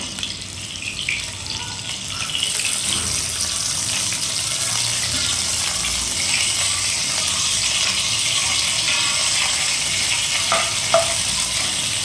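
Chopped onions and curry leaves frying in hot oil for a fish curry, a steady loud sizzle with brief stirring sounds near the end.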